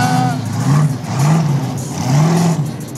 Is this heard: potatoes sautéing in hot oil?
no